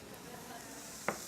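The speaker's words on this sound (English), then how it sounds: "I hear a nice healthy sizzle." Steady sizzling of vegetables frying in a pan, a soft continuous crackle with one brief sharper burst near the end.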